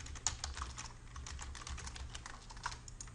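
Quick, steady keystrokes on a computer keyboard while a short name is entered, a dense run of close clicks over a low background hum, with no talking.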